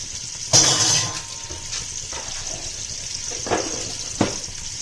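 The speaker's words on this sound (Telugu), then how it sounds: "ఫ్రైడ్ ఆనియన్స్ కోసం ఇవి మంచిగా ఫ్రై అవ్వాలి" Onions frying in oil in a pan for veg dum biryani, a soft sizzle with a louder burst early on and a few scraping stirs, close by with no talking.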